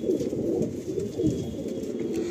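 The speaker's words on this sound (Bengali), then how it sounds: "খুব সুন্দর সুন্দর পায়রা দাদা কালেকশন করে রেখেছেন" Madrasi pigeons in a loft in Howrah, Bankra, coo in low, repeated throaty murmurs, several birds overlapping close by in a continuous soft chorus.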